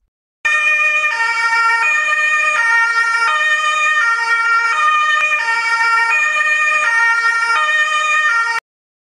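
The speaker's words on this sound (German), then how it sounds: "Wieso kommt denn der Krankenwagen?" Toy-style ambulance siren in a Playmobil pizzeria scene, a loud two-tone wail alternating evenly for several seconds, clean and alone, then cutting off sharply.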